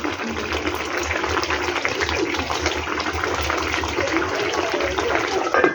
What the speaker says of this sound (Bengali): মাছের ঝোলটা আমার ফুটে গেছে